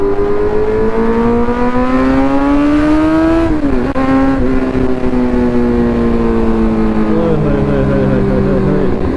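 Superbike engine, a Suzuki GSX-1000 or Kawasaki Z900, revving loud and close with strong harmonic tones that climb steadily, dip sharply around the middle, then settle into a sustained lower drone.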